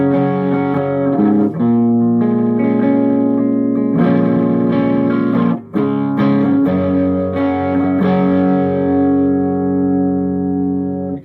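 Distorted electric guitar chugging through an Orange amp, playing sustained power chords and riffs with a couple of brief breaks, loud and alone.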